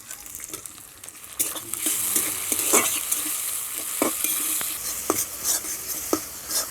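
Chopped tomatoes hit a pan of frying spring onions and sizzle loudly, with repeated sharp stirring scrapes and clinks against the pan over a steady crackling fry.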